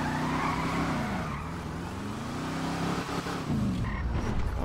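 A car drifts in the FiveM drift mode of a video game, its engine note rising and falling steadily as tires skid and squeal almost continuously, loud and close, with no talking.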